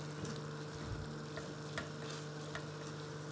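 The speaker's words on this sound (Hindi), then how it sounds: "तो अभी ऑयल या घी 1/4 कप इसमें शामिल करके इसको थोड़ी सी तेज़ आग पे आपने भून लेना" Minced keema fries in ghee over high heat with a low, steady sizzle and soft stirring scrapes, faint and constant throughout with a faint hum beneath and no voices.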